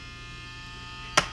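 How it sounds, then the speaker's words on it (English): A handheld rotary tool grinds the plastic of a SMOK NORD vape pod during a repair: a steady, close electric motor whine runs throughout, then a brief, louder harsh grinding burst as the bit bites in near the end. "I'm going to grind up to here, slightly up to the top, make the prying a little easier"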